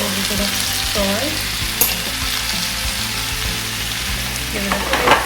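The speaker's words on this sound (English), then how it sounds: "We've sauteed it. Now we're going to be adding all our washed clean spinach." Washed spinach hitting a hot pan of butter, garlic and sautéed onions, a steady close sizzle with occasional stirring scrapes and small knocks throughout.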